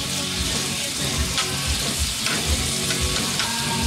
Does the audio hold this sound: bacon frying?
yes